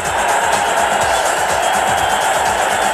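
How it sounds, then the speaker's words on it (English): A Seattle Mariners baseball stadium crowd roars as the pitcher closes in on retiring his 25th straight batter, a dense, steady wall of cheering and shouting that holds at one level throughout. "listen to this crowd"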